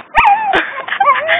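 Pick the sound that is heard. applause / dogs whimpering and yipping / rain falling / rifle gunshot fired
dogs whimpering and yipping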